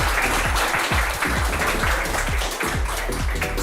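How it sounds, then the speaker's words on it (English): A crowd at an esports championship final applauds steadily for the runners-up, the RAF Storm Shadows, with dense clapping throughout and no talk. "a huge round of applause to our runners-up, the RAF Storm Shadows."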